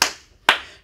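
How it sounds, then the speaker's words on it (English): Two sharp hand claps during a toddler song-and-activity session, each a crisp close slap with a quick decay, spaced about half a second apart and alone without talk. "our hands say thank you with a clap, clap, clap"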